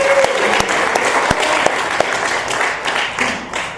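Audience at a recovery group meeting breaks into steady applause, dense overlapping claps with a few sharp individual hand claps standing out, filling the room evenly and fading slightly toward the end.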